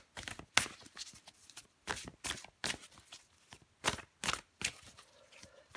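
Tarot cards are handled and shuffled close up in a quiet room, giving a run of crisp riffling bursts and short slaps spaced roughly every half second. No one speaks.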